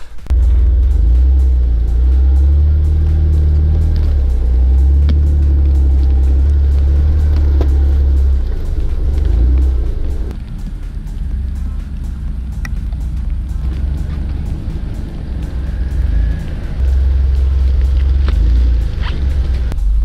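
A Jeep grinds along an off-road trail lined with Christmas-tree-like conifers, its engine rumbling deep and steady near the mic, with the drone easing off briefly midway before building again.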